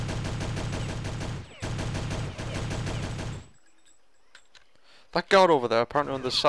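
Rapid gunfire from the video game Conspiracy: Weapons of Mass Destruction, dense bursts of repeated shots filling the first few seconds, then silence, followed by someone talking.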